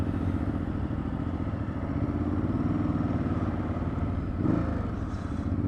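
A Ducati Hypermotard 939 motorcycle rides along with a steady mid-pitched engine drone and some clatter, continuous and fairly close throughout, with a brief louder swell near the end.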